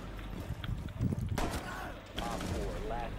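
Rainbow Six Siege gunfire crackles in quick bursts amid in-game noise, fairly loud and close, while players chatter over it.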